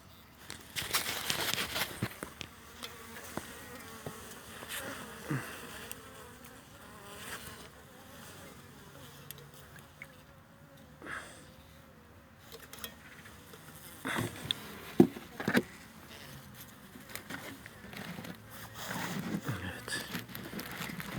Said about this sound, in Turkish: Burada sokmayan arı yok.